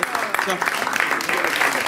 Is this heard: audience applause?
yes